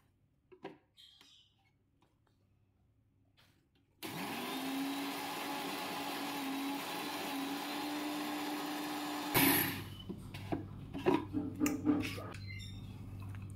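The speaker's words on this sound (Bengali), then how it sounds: "সামান্য জল দিয়ে দেবো, দিয়ে ভালো করে ব্লেন্ড করে নেব।" An electric blender grinds coriander with a little water in a steady, loud whirring burst of about five seconds that cuts off abruptly, with quiet kitchen clatter before and after.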